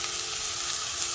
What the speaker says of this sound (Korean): 올리고당을 넣고 볶겠습니다